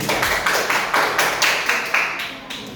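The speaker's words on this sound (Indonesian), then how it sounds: "beri dulu tepuk tangan untuk Sisi" Classroom applause for a student named Sisi, a small group clapping in uneven, repeated bursts close by, fading slightly toward the end.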